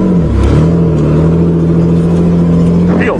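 Steady drone from a 1986 Nissan 4x4 truck engine on the move, loud and close throughout with a constant low hum and a brief shift in pitch near the start.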